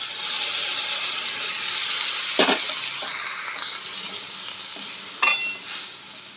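Shrimp and taro stolons frying in a pan give a steady loud sizzle, then water hits and a brief surging hiss of steam rises, with a couple of sharp utensil clinks.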